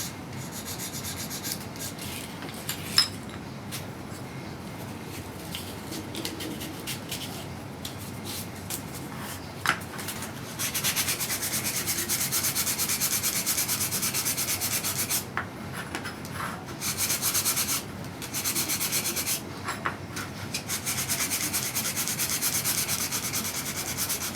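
A wooden mandolin bridge being sanded smooth by hand, steady close rubbing strokes that grow louder and denser midway, with brief pauses between bursts.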